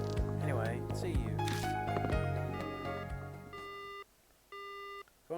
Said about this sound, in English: Phone call cuts off abruptly.